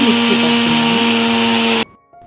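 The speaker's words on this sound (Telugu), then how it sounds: "ఇప్పుడు ఈ మిశ్రమాన్ని మిక్సీలో వేస్తున్నాను." A mixer grinder whirs loudly at close range as it blends a mixture of roasted gram, almonds, milk and jaggery, a steady high motor whine that cuts off abruptly and then hums briefly again.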